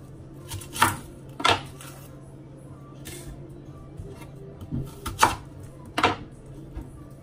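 An onion chopped with a knife for a seafood broth, several sharp separate cuts landing on a board, close and fairly loud against a quiet room.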